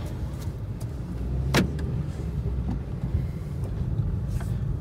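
A Hyundai Aura CNG car running shortly after a cold start, a steady low engine hum with some wind and cabin noise and a brief clunk partway through, heard from inside with no talk.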